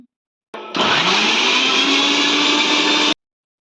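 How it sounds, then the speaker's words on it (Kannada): A mixer grinder grinding coconut pieces whirs to life after a brief pause, runs at a loud, steady high-pitched grind for a few seconds, then cuts off abruptly. "ಅನಿಲೆ ಕೊಬ್ಬರಿ ಪೀಸ್ನ ಎರಡು ಪಾರ್ಟಾಗಿ ರುಬ್ಕೊಂಡಿನಿ"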